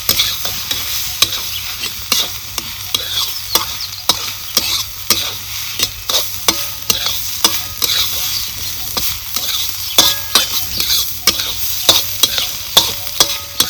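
Green chillies sautéing in oil on a tava for village-style mirchi kharda make a loud, continuous sizzle, with rapid, repeated spatula scrapes and clicks in a busy rhythm close by.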